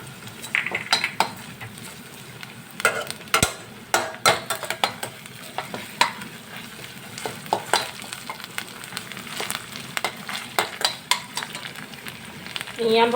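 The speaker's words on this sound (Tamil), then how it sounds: "இஞ்சி பூண்டு பேஸ்ட் போட்டு வதக்கி பச்சை வாசனை போகவும்" Ginger garlic paste sautés with onions in a pan: a soft continuous sizzle under frequent clinks and scrapes of a metal spoon stirring against the pan.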